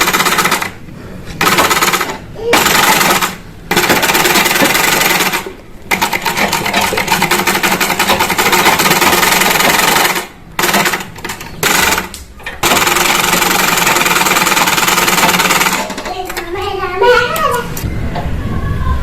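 Sewing machine stitching sleeves onto a child's kurti runs in loud, close bursts of steady mechanical whirring, broken by short pauses as the fabric is turned, with faint handling near the end.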